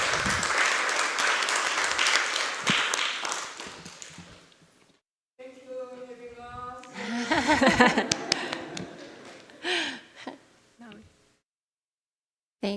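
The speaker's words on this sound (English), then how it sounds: "let's give them a big warm applause" An audience at a Sunday Dharma service claps steadily for a few seconds, then the applause fades out and a voice speaks with some scattered taps.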